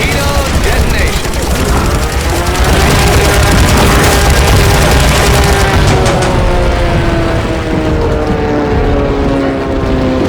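Torpedo detonation and explosions during a naval air battle in the video game Heroes of the Pacific, a loud, sustained barrage of booming blasts and rattling gunfire layered with engine drone.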